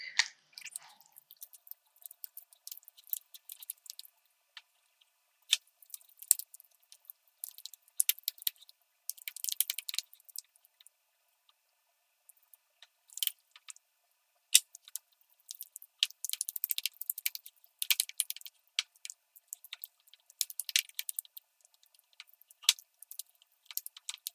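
Cream cheese and pumpkin cheesecake filling worked together by hand in a bowl, soft wet squishing and scraping in irregular bursts with short quiet gaps, close and faint.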